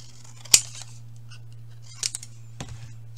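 Scissors snip through a small piece of paper while a Christmas craft is assembled, one sharp close cut followed by a couple of softer snips, against a quiet steady hum.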